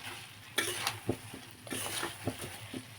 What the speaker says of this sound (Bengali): এখন অল্প লাড়াচাড়া করে তারপরে আমি হচ্ছে এটাকে নামিয়ে দিব।